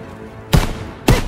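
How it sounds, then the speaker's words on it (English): Artillery shells slam onto a beach during a D-Day landing in Call of Duty: World War 2, two heavy booming impacts about half a second apart over a constant rumbling battlefield backdrop. "They're shelling that beach to shit!"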